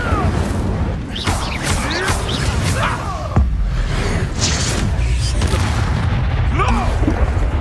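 Spell-casting effects in the Hogwarts Legacy video game: repeated magical whooshes, booms and crackling bursts over a steady game soundscape, with a spoken voice calling out spell names throughout.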